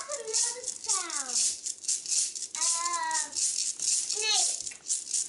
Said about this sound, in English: A snake! I hope there's not a snake in my bag.